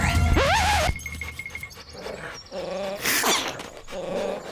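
A dog growls and snarls up close in short rumbling bursts, with a few yips mixed in.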